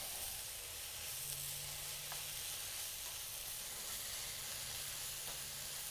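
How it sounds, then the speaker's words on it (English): Tomatoes sizzle steadily in a hot pan while being stirred, a constant crackling fry at close range with a faint low hum underneath and no voices. "Tomatoes going in. Give that a quick stir."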